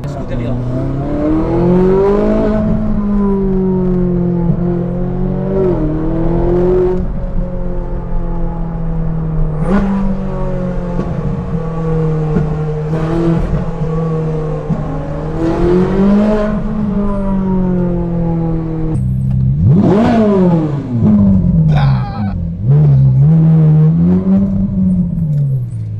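Onboard a Ferrari 458 Italia with its 4.5-litre V8, the engine revs loud and close while driving, rising and falling through repeated gear pulls with sharp surges near the end; people talk over it.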